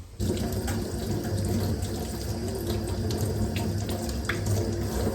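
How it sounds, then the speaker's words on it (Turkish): Potatoes being washed under a running kitchen tap, a steady close stream of water splashing into the sink that starts abruptly and continues evenly, with no talk. "Şöyle patateslerimi hemen şurada bir yıkayayım."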